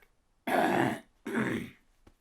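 Two harsh throat-clearing coughs from a person, each about half a second long and close to the mic, separated by a short pause and followed by a faint click.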